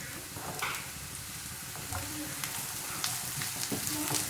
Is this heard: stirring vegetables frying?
yes